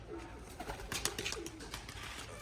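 Pigeons stirring in a loft as they are let out, with soft cooing and brief flutters and knocks, close and quiet.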